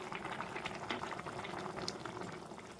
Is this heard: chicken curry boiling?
yes